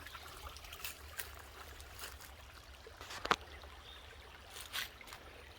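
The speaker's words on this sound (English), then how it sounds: "little creek down here at the base of our lot." A small creek at the foot of a wooded lot trickles quietly in the background, a faint steady babble broken by a few brief soft splashes and clicks.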